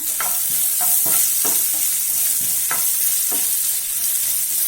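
Sliced onions sauté in a hot pan, a bright constant sizzle with a spatula scraping and tossing at irregular intervals, close up and without speech.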